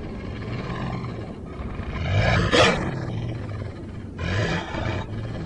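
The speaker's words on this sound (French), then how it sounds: "C'est à ce moment que vous entendez un grognement." A deep, rumbling wolf growl swells into a loud roar midway, then settles into lower snarling, fairly close with no voices.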